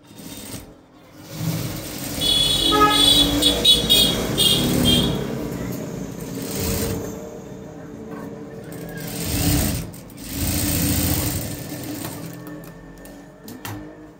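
Sewing machine stitching a padded blouse with aari work, running in sustained close buzzing stretches that rise and fall with brief pauses, with faint voice in the background.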